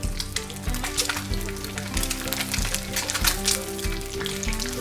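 Whole spices, bay leaf, cloves, cardamom and a piece of cinnamon, sizzling in very hot ghee for a Punjabi egg curry, a steady close crackling fry with soft rhythmic tones underneath and no talk.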